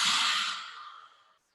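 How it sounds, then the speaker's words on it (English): A forceful open-mouthed lion breath exhale in a bedtime yoga sequence, one long breathy rush that starts loud and close, then fades over about a second and a half with no talking. "Exhale, lion breath."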